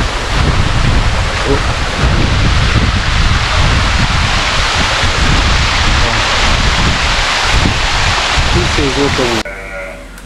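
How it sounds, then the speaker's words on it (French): Water rushing loudly and continuously at the source of the Dindefelo waterfall in Senegal, a broad roaring wash filling the recording before dropping sharply at the end as a voice briefly speaks. "on est arrivé à la source de l'eau qui coule au niveau de la cascade de Nifelo"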